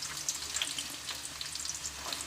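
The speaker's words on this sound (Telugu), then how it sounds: "ఇదిగోండి, నేనైతే ఆనియన్స్ వేస్తున్నాను అన్నమాట" Onions sizzling and frying in hot oil for a blood curry, a steady crackling hiss close by with small popping bursts throughout, no voices.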